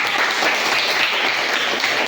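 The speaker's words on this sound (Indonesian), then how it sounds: "tepuk tangan semuanya" A class of schoolchildren claps together for a classmate's answer, a brief, dense burst of applause close by.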